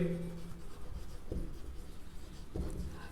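Faint strokes of writing a maths proof on a board, a few soft scratching marks spaced out in a quiet room.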